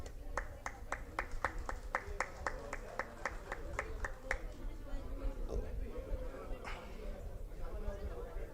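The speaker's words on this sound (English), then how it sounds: "Let's give a good applause." A handful of sharp, evenly spaced claps ring out one after another at an award function for about four seconds, faint and thin against a murmuring room, then give way to quiet background chatter.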